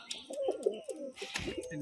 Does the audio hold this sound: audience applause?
no